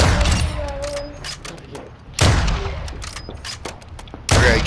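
Heavy gunshots boom in a Call of Duty MW2 DMZ firefight, several loud reports with long echoing tails spaced across a few seconds, a voice speaking in between.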